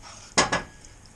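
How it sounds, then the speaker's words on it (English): A spoon stirs haddock fish soup with a tomato base in a cooking pot, giving two quick close metallic clinks against the pot in an otherwise quiet kitchen. "Give it a little stir."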